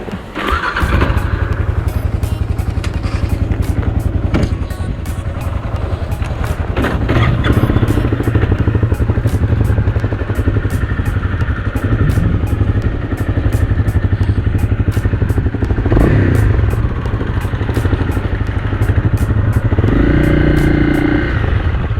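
A Honda CRF250 dirt bike being ridden near Pickerel Pond, its engine revving and settling in loud, close bursts with clattering thumps from the ride over rough ground.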